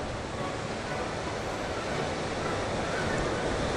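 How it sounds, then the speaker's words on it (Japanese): Rough surf on the Sea of Japan coastline in Nikaho, Akita, heard as a steady, loud wash of breaking waves with wind noise, continuous throughout without pauses and no speech. "海岸線は 日本海らしく 波が打ち寄せ荒 れ狂っております"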